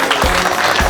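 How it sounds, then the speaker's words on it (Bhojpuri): Audience applause at a cooking show taping, a short, dense burst of clapping that fills the moment evenly, loud and close, with no voice over it. "एक बार जोरदार तालियां।"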